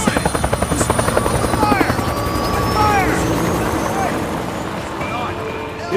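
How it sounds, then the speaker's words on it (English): A helicopter in the video game Days Gone approaches with loud, rhythmic rotor thumping that swells and holds steady, while voices come through faintly underneath. "Wait, stay back! The chopper!"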